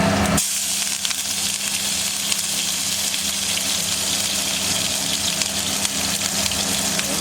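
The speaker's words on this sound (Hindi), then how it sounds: "मिर्च, मिर्च छोंक दो।" Stuffed bell peppers sizzle in hot tempering oil, a loud continuous frying hiss that starts abruptly and holds steady without voices.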